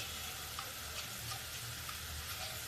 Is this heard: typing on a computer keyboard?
no